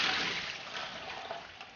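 Steady rushing lukewarm water from a tap runs over beef being washed for a moment, close and continuous, with no voices.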